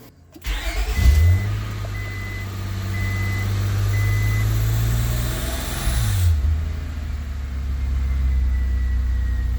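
A 2000 Honda Accord with a misfire cranks and fires up. Its engine revs up, then settles into a loud, steady idle close by, with a dashboard chime beeping several times early on.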